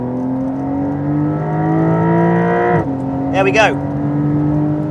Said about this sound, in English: As you can hear, sounds quite a lot rawer than a regular 992.